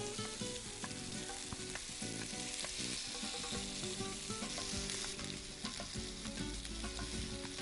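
Beef seekh kebabs sizzle steadily while being turned in hot oil, Bangladeshi style, with a dense continuous crackle and occasional scrapes and clinks from handling, close and fairly loud.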